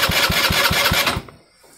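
A small go-kart engine with a freshly cleaned carburetor cranks in a quick, steady chugging rhythm for just over a second, then cuts off without catching, leaving near silence.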